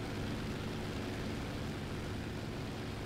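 A warplane engine in War Thunder runs at War Emergency Power, a steady, loud, unbroken roar that fills the whole span with no pauses and no voices.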